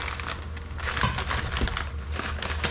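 Dry glass noodles handled in a kitchen, a continuous crinkling, crackling rustle with brittle snapping bits, close and fairly loud.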